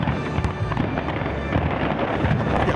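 Fireworks burst in rapid succession during a show, a dense, continuous barrage of booms and crackles at close range, with sharp louder bangs punctuating the steady roar.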